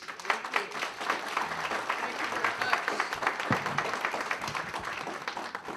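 An audience gives a steady round of applause at an international trade breakfast, dense and sustained clapping throughout.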